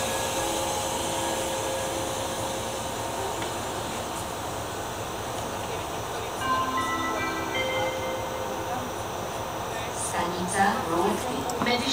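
A RegioJet passenger train bound for Košice rumbles in at platform 11 with steady mechanical drone, faint squeals and clanks, while station announcements carry over the station noise.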